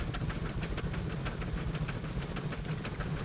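A turbo V8 in a huge 6x6 military truck inside a video game, idling with a steady low rumble and repeating pulses, close and continuous with no talking.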